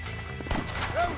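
Horse in the Red Dead Redemption video game, hooves clopping briefly before a short whinny near the end, loud and close over a steady game background.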